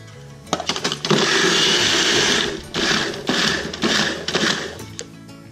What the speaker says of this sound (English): In just a second, I'm gonna blend it all together.